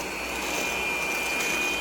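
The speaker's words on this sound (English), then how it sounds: "I'm using a hand mixer" An electric hand mixer creaming butter and sugar, whirring at a steady high pitch with a thin whine, close and continuous throughout.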